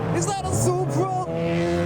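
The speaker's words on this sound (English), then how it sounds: "the Supra is also making some noises" Toyota Supra engine revving at a car show meet, a rising and falling harmonic engine note lasting about two seconds, fairly loud and close, mixed with other car engine sounds around it.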